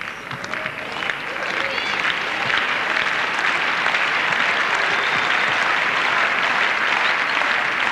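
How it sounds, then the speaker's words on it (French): Tennis crowd at the 1995 Paris Bercy Open final applauding Boris Becker, steady dense clapping that swells in the first second and holds evenly, with a commentator's voice faintly underneath. "On applaudit Boris Becker car le public aimerait qu'il revienne au score"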